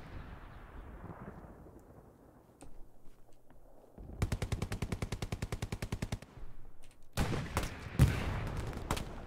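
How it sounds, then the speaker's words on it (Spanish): Gunfire from bushes in a team shooter video game tournament match: distant thuddy shots first, then a sustained rapid machine-gun burst and a second dense volley of automatic fire, loud and sharp, with no talk over it. "Disparos otra vez de los arbustos, nada extraño"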